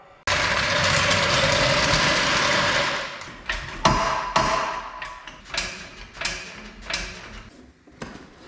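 A mechanic works under a car to remove its starter motor: a loud, steady whir of a power tool runs for about three seconds, followed by a series of close metallic thumps, taps and clanks.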